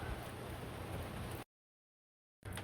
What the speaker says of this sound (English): Rain seems to be holding pretty steady at this point.